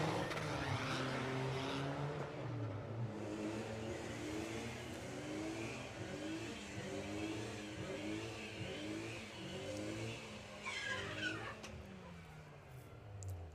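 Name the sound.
Audi and VW Golf drag racing down the strip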